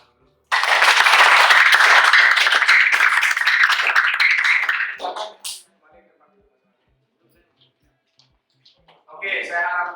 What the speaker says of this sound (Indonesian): Jadi silakan berikan tepuk tangan dulu